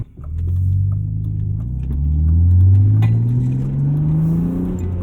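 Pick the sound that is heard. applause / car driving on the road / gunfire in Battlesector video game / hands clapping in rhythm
car driving on the road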